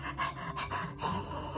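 A person imitates panting with quick, rhythmic huffs of breath, about four pulses repeated evenly. The breaths are close and fairly soft.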